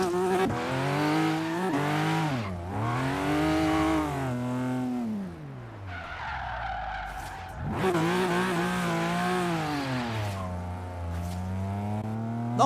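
A BMW M5 drifting in the Forza Horizon 3 racing game, loud engine howl rising and falling with gear changes and tire squeal, dipping briefly before revving hard again.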